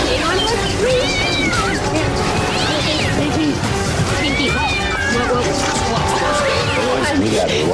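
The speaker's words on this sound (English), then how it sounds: "He's a male cat, domestic short hair." An angry male domestic shorthair cat yowls and caterwauls loudly and close, with long rising and falling wails repeated over constant commotion and background noise.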